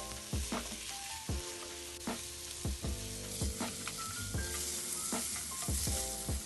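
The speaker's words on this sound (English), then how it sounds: "Put the yellow onions first. Stir the onions." Yellow onions fry in a tablespoon of oil while being stirred for a Shin Ramyun instant noodle dish, a steady close sizzle broken by repeated scraping strokes of the utensil at an uneven rhythm.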